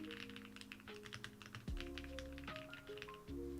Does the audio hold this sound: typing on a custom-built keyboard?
yes